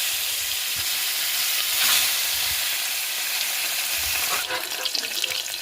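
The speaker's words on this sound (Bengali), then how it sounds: "তেলটি গরম হয়ে গিয়েছে, এখন আমি সারা কড়াই তেলটিকে আমি একটু লাগিয়ে দেব এবং ওপর থেকে আমি কই মাছগুলোকে ভাজার জন্য দিয়ে দেব" Koi fish frying in hot oil in a wok, giving a steady, close, loud sizzle and crackle that runs throughout with a brief swell partway through.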